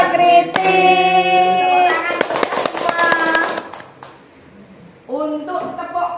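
Schoolchildren chant the Pancasila student clap routine in unison, with bursts of sharp group claps between the sung lines, close and loud, then a short lull before the chanting resumes.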